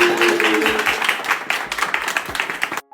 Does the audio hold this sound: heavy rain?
no